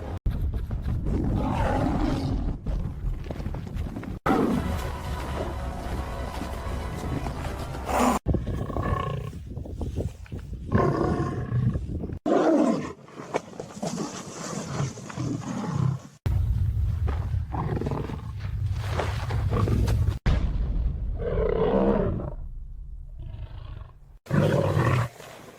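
A wounded lion fighting a hyena pack lets out repeated loud, deep roars and groaning snarls in separate bursts, some long and some short, with brief quieter gaps between them.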